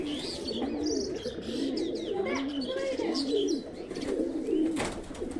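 Soft repeated cooing of high-flying pigeons, including a golden female, with rolling throaty calls and occasional chirps close by over a steady background hum.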